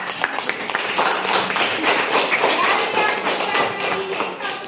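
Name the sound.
classroom students clapping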